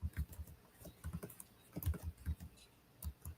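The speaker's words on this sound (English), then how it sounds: "Are you typing in your answer?" Quiet clicking of keys on a computer keyboard, irregular bursts of taps with short pauses, close and faint, no voices.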